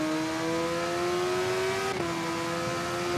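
Supersport motorcycle accelerating in the TT Isle of Man racing game, a steady loud engine tone climbing in pitch, briefly dipping at a gear change, then pulling on, with no voices.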